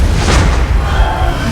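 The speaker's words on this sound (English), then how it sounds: "Explosion." A game explosion in Skyrim, a deep rumbling boom with a broad burst swelling early and a low roar sustained to the end, loud and alone with no talk.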